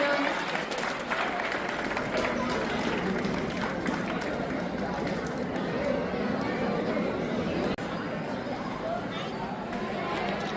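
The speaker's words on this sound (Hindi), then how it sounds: "तालियां बजती रहनी चाहिए बेटा।" Audience at a government school's annual function and talent award ceremony claps continuously, a dense, even wash of applause mixed with crowd chatter, sustained for about ten seconds.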